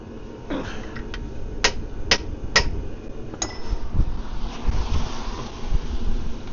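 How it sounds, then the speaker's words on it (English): A hammer strikes a chisel several times during clutch replacement on a 2011 Fiat Doblo 1.3 Multijet, sharp metallic clinks spaced irregularly over a windy, noisy outdoor background. "Chisel."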